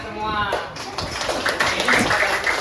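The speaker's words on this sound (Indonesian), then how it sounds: "Untuk itu kita beri tepuk tangan dulu buat kita semua." A school class claps hands together, a burst of quick scattered clapping from many hands that follows a teacher speaking and continues under further talk.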